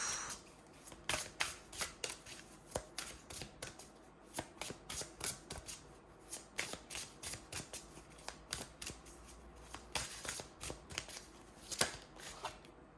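Oracle cards are shuffled by hand for a card draw, with close, steady riffling and flicking in quick irregular bursts that run throughout. The sound is soft and stands alone with no speech.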